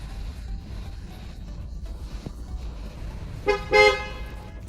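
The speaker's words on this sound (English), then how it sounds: "The car has beeped twice now." A 2019 Ford Escort sounds its horn in two short beeps close together near the end, rising over a quiet, steady background hum.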